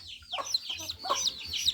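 Chickens cluck repeatedly at close range in an evening farmyard with children nearby, the bursts of soft calls overlapping in a steady, busy rhythm.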